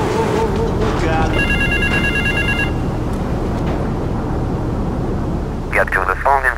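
Telephone ringing in Grand Theft Auto III, with electronic ring tones in bursts near the start and again at the end, over a loud steady rumble of engine-like background noise.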